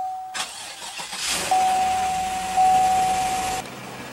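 A 2016 GMC Yukon's 5.3-liter V8 fires up by push button: a loud cranking burst, then a catch into a steady idle rumble, with a thin electronic chime tone running above it.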